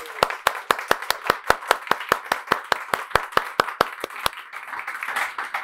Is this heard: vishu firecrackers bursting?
no